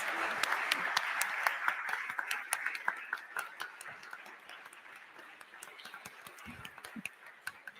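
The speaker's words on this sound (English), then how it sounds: "please, everybody, applause to our dedoc voices" A room of people applauds advocates at a diabetes symposium. The sustained clapping is dense at first and then thins toward the end, with faint voices underneath.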